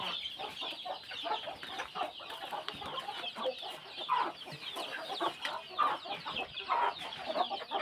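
Fighting chickens at a breeding farm, a dense chorus of clucks and squawks from many birds nearby, continuous and busy, with occasional louder calls rising out of the flock and no speech.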